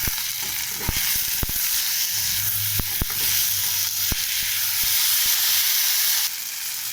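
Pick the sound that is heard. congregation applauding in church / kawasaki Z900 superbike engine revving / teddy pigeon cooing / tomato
tomato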